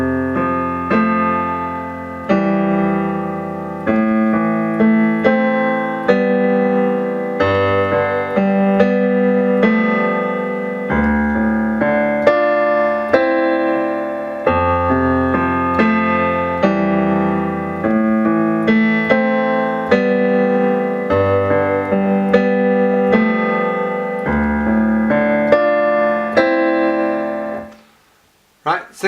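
Piano plays the instrumental riff from a song slowly and clearly, with repeating chords and a melody in a steady pattern that lasts nearly thirty seconds before ringing out to silence.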